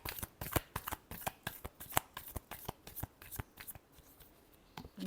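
Tarot cards shuffled by hand in a quiet room, a quick run of crisp riffling flicks and taps in an uneven rhythm, close and fairly soft.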